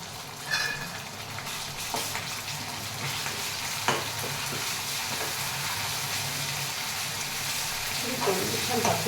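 Onions with ginger garlic paste fry in a pan for bagara rice, a steady close sizzle running throughout, with occasional stirring clatter and a soft voice in the background.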